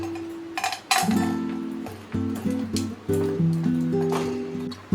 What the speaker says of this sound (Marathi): 1 वाटी गूळ घालते